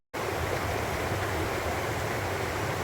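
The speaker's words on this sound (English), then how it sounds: "water flowing underground." Steady rushing water along the GR7 long-distance trail in southern Spain, a continuous broadband wash that starts abruptly and holds at an even, fairly loud level with no voices.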